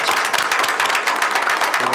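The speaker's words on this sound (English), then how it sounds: "let's give them a big round of applause." A crowd at a city commission meeting claps and applauds steadily throughout, dense and continuous with no pauses.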